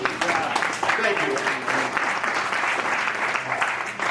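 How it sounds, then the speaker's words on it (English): Audience at a comedy night with a chef performer breaks into steady, dense applause that holds at an even level throughout, close and full, with some voices mixed in. "You're going to hold your applause."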